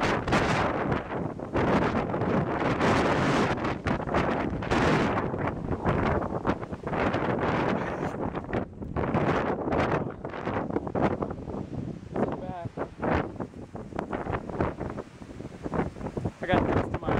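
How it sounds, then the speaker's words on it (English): Strong gusty wind blows dust ahead of a lightning storm, buffeting the microphone in loud, roaring bursts for the whole stretch, with a voice heard at times under the wind. "Ah, it's so windy!"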